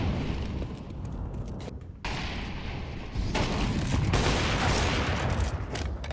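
Rapid gunfire in a first-person shooter video game, loud dense bursts of shots running almost continuously.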